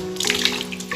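Dissolved molasses and trichoderma solution in water is poured onto a compost layer, a brief close splashing gush of liquid.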